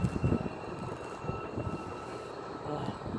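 Washington Metro 7000-series train at New Carrollton station, a steady low rumble of rolling stock and motors filling the platform at moderate level, with no clear talk over it.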